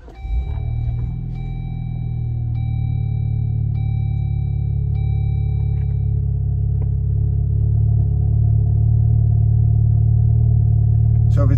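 Jeep fitted with a Flowmaster high-clearance exhaust starting up, heard from inside the cabin: a brief crank and catch, then a steady, loud low idle rumble that continues with slight rises in engine note.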